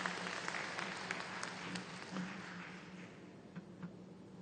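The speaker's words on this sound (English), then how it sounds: "kindly request that you give him a warm applause" Warm applause from a conference audience at a closing address, steady dense clapping throughout, moderately loud and unbroken, no talk over it.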